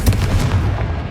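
A blasting spell in the Hogwarts Legacy video game detonates with a loud, close explosive boom, a sharp crack followed by a dense, rumbling burst that carries through the whole moment without any voices.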